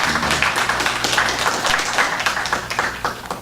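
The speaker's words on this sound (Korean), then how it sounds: "아주 아름다운 찬양을 들려주셨는데 격려하고 박수하겠습니다" A church congregation applauding the choir after a hymn, dense steady clapping from many people in a reverberant hall, with a low hum underneath.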